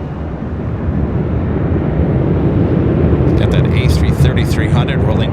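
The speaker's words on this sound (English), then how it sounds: "A330-300 rolling down 25 left." Airbus A330-300 jet rolling down runway 25 left at LAX, a loud steady engine roar swelling in over the first second and holding strong, with faint airband radio chatter appearing toward the end.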